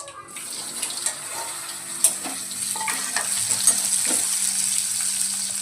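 Stuffed okra sizzles steadily in a pan while being tempered, a continuous close frying hiss broken by a few light stirring clinks, with no talking.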